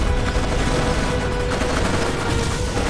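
Dense, continuous battlefield gunfire in the World War II strategy game Codename Panzer at El Alamein, a loud, constant rattle of overlapping shots and distant booms with no clear pauses.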